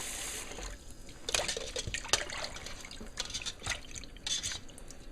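Running water rinses out a freshly cleaned, scaleless fish for a tomato fish stew, a steady close trickle broken by irregular splashes and drips as the fish is handled under the flow.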